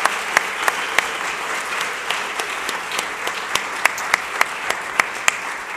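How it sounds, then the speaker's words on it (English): Applause at a civic announcement of the Philadelphia Indego bike share program, honoring Blue Cross: a sparse, moderate patter of individual claps with a few sharper, louder hits standing out over a soft steady background. "Please give them another big round of applause"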